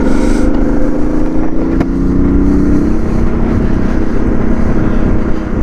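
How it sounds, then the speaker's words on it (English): Suzuki DR650 single-cylinder thumper motorcycle engine running up close in the Rocky Mountains, a loud steady throb with a slight rise in pitch early on, then holding an even, rumbling drone. "listen to the sound of that thumper"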